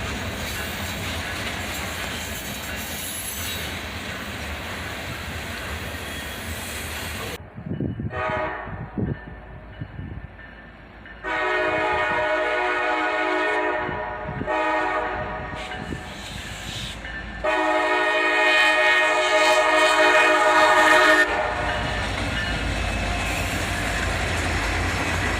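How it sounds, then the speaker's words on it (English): A freight train led by a Canadian National anniversary locomotive rumbles past on a freezing morning, its horn blaring in two long, loud blasts over the rolling clatter of wagons. "we catch a bit of foreign power with a Canadian National Anniversary unit in the lead"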